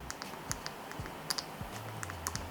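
Several sharp, crisp clicks in loose succession from the volume rocker of a Google Pixel 9 Pro XL fitted in a clear case, pressed close by against a faint steady background hiss.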